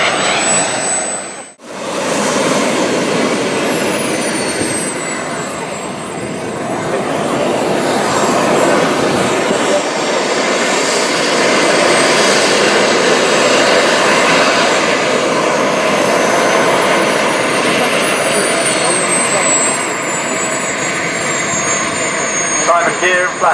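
A model Vulcan jet aircraft at a model airshow roars steadily and loudly as it flies past, its jet whine shifting in pitch as it pulls out gracefully, with a commentator talking over it.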